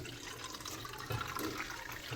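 Water pours into a makeshift container and spills onto the ground, a continuous close splashing gush with uneven surges, no voices heard.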